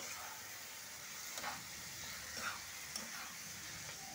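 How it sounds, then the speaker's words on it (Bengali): Fish roe curry stirred in a sizzling pan, soft scraping strokes over a steady frying hiss, quiet and close with a few distinct stirs. "এবার আমি এইটাকে একটু নেড়ে নিচ্ছি।"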